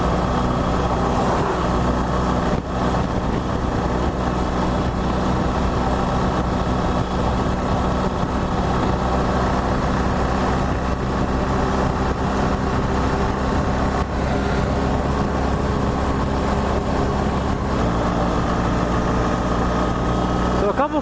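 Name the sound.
BMW R1200GSA motorcycle engine riding uphill in third gear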